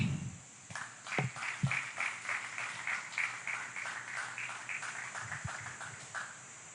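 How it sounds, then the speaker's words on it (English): Audience applause at a formal Europe Day ceremony, a crowd clapping steadily and moderately loud for several seconds with dense overlapping hand claps and no talk. "I think he deserves more applause, please."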